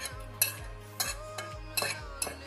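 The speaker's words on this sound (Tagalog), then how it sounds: "Mix natin yung ating durog na cloves." Ground cloves being mixed with a utensil in a bowl, heard as a series of about five light scraping strokes and clinks in an even rhythm, close and fairly quiet.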